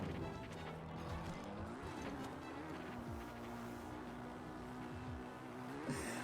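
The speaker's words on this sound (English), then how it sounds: "I love how just like in a medieval world, you just get a motorcycle." Motorcycle engine in Zelda: Breath of the Wild, a steady droning hum with a rising pitch sweep near the start and another near the end, with no speech over it.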